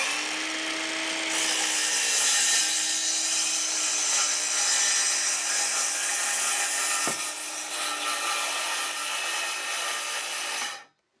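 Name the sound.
circular saw making a plunge cut into wood sheathing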